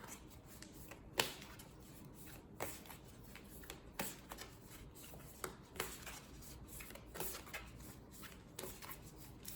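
Tarot cards being shuffled by hand, a soft continuous riffling and rubbing with regular louder slaps every second or so, close and quiet with no talking.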